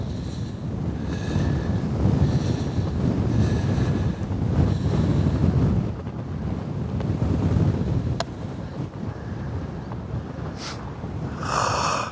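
Strong wind on a golf course buffets the microphone in heavy, rumbling gusts that rise and fall for several seconds at a time. A few faint higher bird-like chirps cut through near the end.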